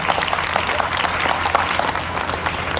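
Dense applause from a large crowd at a ceremony honouring meritorious students and their parents, continuous and fairly loud, with faint voices mixed into the clapping.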